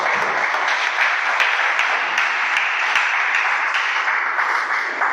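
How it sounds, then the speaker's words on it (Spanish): A church congregation applauding in praise, dense steady clapping filling the room throughout at close, loud level. "dale un aplauso al Padre."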